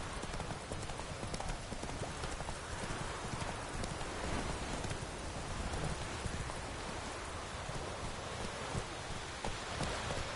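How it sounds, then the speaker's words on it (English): Steady rain pours in The Witcher 3 game world, a dense continuous hiss under the brisk clip-clop of a horse's hooves on the ground. "Let it rain."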